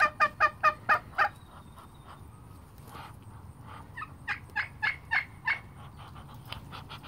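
Several farm turkeys gobbling in close, loud rhythmic bursts, a quick run at the start and another series near the end, over a low steady background with no talking.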